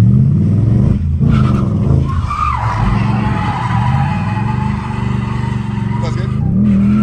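A Ford Mustang RTR does a burnout with a clutch kick, its engine holding a loud, droning rev while the tires squeal and skid up close, and voices talk over it.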